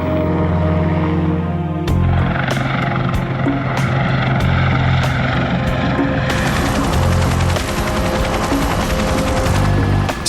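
Super Puma helicopter in flight, a steady loud rotor and turbine drone filling the whole stretch, with sharp rhythmic thumping beats and a brighter roar swelling in partway through.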